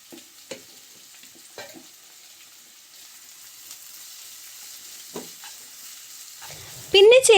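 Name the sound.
onion, green chilli, ginger and curry leaves sautéing in coconut oil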